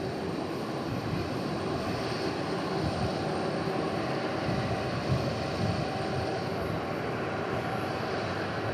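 An airliner departing on the west side at DFW airport gives a steady, continuous roar of jet engines at fairly close range, sustained and even throughout without talk.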